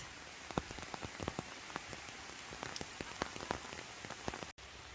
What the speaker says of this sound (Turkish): Yağmur da güzel.